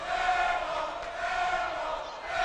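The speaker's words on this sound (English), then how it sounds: "the rowdy crowd letting Mercedes Riggs know what they think about her" A rowdy crowd at a women's college basketball game, Salt Lake Community College against Snow College, reacts to a foul with a dense, steady roar of many voices that holds fairly loud for a couple of seconds.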